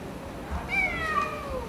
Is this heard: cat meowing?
yes